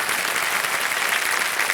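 A studio audience at a televised quiz show applauds in a continuous, even wash of clapping, loud and close throughout the short stretch.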